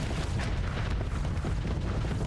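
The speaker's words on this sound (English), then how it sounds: "you see our guns are kind of stutter firing" Guns stutter-firing in short, uneven bursts in a video game, a dense wash of low, rumbling booms that carries on without a break.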